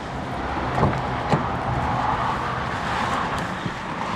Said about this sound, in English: Let's do some POV driving.